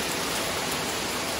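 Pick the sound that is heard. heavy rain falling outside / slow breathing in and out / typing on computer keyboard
heavy rain falling outside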